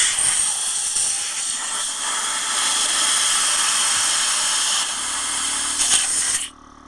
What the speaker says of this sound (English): That's the air compressor off a Cadillac air ride suspension.